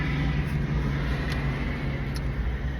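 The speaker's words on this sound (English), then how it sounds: "Again, I apologize for the road noise." Steady roar of road traffic from a nearby highway, a continuous low rumble of passing cars and trucks with occasional brief hiss of tires, fairly loud and unbroken, no voices.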